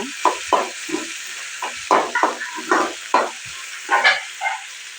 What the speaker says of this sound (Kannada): ಮೆಣಸಿನ್ಕಾಯಿ ಹಾಕಿ ಚೆನ್ನಾಗಿ ಫ್ರೈ ಮಾಡಬೇಕು